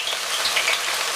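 Onions sizzling in hot oil for a Cameroonian chicken DG, a dense, even hiss heard up close and alone for a brief moment.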